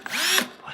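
A Milwaukee cordless drill runs up briefly, a loud, close whirring motor that spins steadily and then winds down within a second.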